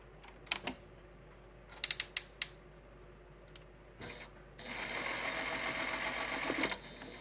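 A sewing machine stitches quilt squares, starting with a few separate mechanical clicks and taps and then settling into a steady, close whirring run of stitching for about two seconds.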